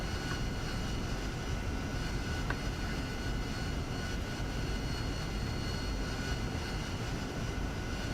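A Harrier jet in DCS World rolls down the runway with its nozzles angled at 25 degrees, giving a steady, loud, broadband engine roar that stays constant and close throughout with no talking.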